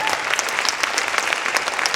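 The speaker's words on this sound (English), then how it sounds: "Yes, that deserves a huge round of applause." Audience at a community event in a museum in Queens, New York, clapping in a dense, steady round of applause from many hands, close and lively throughout.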